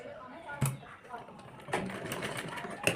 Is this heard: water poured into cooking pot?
no